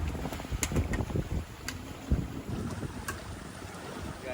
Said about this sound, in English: We got nice wind this morning.